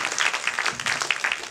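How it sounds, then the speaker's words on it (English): An audience at a late-night Canada Day party applauding, a brief burst of steady dense clapping heard fairly close and loud. "A round of applause for that."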